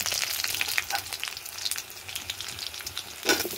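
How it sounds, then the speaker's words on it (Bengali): Cumin seeds, a clove, two cardamom pods, a cinnamon stick and two dried red chillies crackle and sizzle in hot oil, a soft continuous fry with sharp pops and occasional stirring scrapes. "ওই তেলের মধ্যে জিরে ফোড়ন দেব, একটা লবঙ্গ, দুটো এলাচ আর একটা দারচিনি ফোড়ন দিয়ে দেব"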